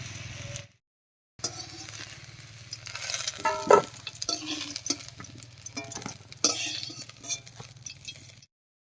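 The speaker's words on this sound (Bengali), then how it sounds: "আলু আর কচুটা হালকা করে ভেজে নিয়েছি এবার নামিয়ে নিচ্ছি" Potato and taro pieces fry in hot oil with a steady close sizzle and repeated scraping stirs, between short silent gaps at the start and end.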